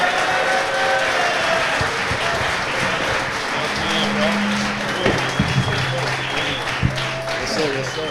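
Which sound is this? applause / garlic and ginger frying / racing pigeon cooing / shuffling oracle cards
applause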